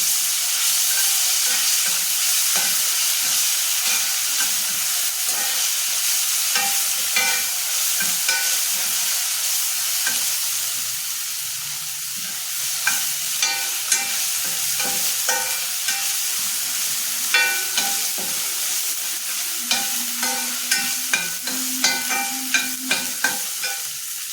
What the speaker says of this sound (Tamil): இஞ்சி பூண்டு பேஸ்ட்டு 1 ஸ்பூன் போட்டுக்கிறேன்.